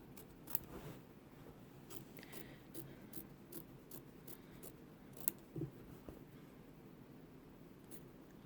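Scissors trimming excess top-layer quilt fabric from an embroidery hoop, a series of soft, close snips and crisp cuts in an irregular rhythm over quiet background.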